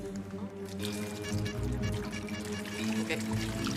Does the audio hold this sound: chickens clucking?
no